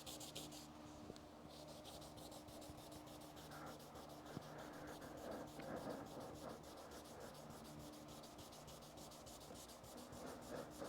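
Car body being hand-sanded with 220 grit sandpaper during a Charger restoration, a faint, steady rhythmic scratching of rapid strokes continuing throughout at low level, with no one speaking.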